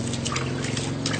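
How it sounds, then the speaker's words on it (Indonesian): A liquid probiotic mixture is poured over fermented goat feed in a steady, close trickle that splashes continuously for a brief moment. "kita siram seperti ini"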